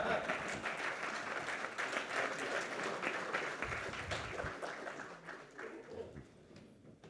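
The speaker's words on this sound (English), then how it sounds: "Yeah, we can do with the clapping, please." Audience at a national logistics summit claps steadily for several seconds, a dense wash of hands that tapers off toward the end, with talk faint underneath.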